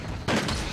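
A single bowgun shot fires in Monster Hunter Tri, one short, loud, sharp burst that rings out alone and then tails off.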